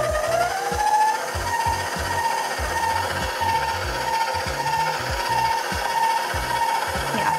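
Stand mixer running briefly on babka dough for a chocolate Easter babka, a steady mechanical whir with rhythmic knocking of the beater against the bowl, close and continuous with no talk.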